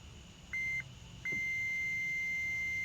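A multimeter gives a continuity beep while probing a purple wire in a Chevy Spark's front power window circuit, first a short tone, then a longer sustained beep, loud and close.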